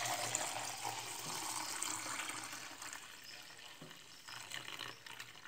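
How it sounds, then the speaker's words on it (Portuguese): Water poured into a container to fill it up to one litre while mixing a homemade insecticide, a soft continuous trickle and splash that fades gradually over several seconds. "Vou completar aqui esse 1 litro com água."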